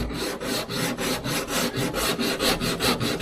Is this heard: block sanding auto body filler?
yes